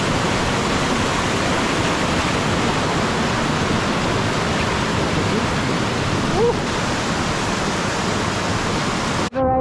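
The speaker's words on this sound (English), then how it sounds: "And another river." A river flowing on a Mount Roraima hiking trail, a broad, steady rushing of water heard close and loud throughout, ending in a brief cut.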